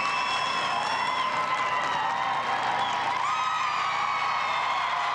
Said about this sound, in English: you hear the crowd react when he gets in front of each dog